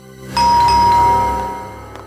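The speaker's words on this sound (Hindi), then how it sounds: "इस वक्त मेरे घर की घंटी बजा रहे हैं।" A doorbell chimes once with a clear two-tone ding-dong, ringing out and fading over a quiet room background.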